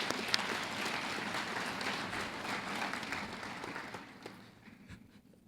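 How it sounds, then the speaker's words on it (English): A crowd at a county executive's State of the County event gives sustained applause, fairly distant in a large room, that slowly thins and fades toward the end. "let's give them a round of applause for all their work"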